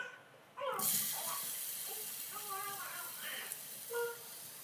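Ripe banana dropped into hot ghee for a quick snack, a sudden hissing sizzle that keeps going steadily while a person talks over it.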